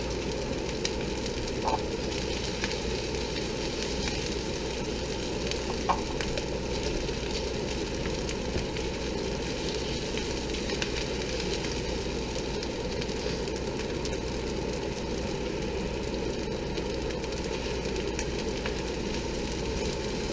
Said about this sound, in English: we're actually going to add in our eggs, and really you're just scrambling eggs right here in the middle.